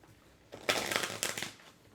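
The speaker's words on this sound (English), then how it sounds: "Why is it that I can never shuffle the cards properly that way?" Tarot cards riffle-shuffled in two quick bursts of crisp flapping, close and brief, with quiet pauses before and after.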